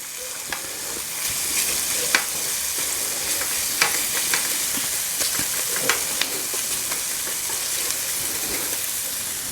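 Tomato paste and garlic frying in a pan for homemade marinara, a steady close sizzle with occasional sharp stirring clicks and scrapes throughout, no voices.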